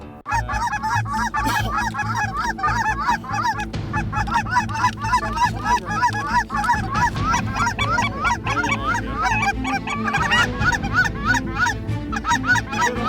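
A Zink goose call mimics snow goose honks in loud, rapid, repeated yelping bursts that carry on without a break, as used for snow goose hunting.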